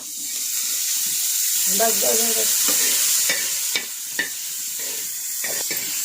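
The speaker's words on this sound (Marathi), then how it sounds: "तो कांदा थोडा परतून घ्यायचा आहे थोडं तेल टाकूया" Onion sautéing in oil in a pan for a vegetable dish, a steady close sizzle with repeated scraping stir strokes, no talk over it.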